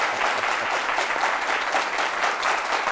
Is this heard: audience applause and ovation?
yes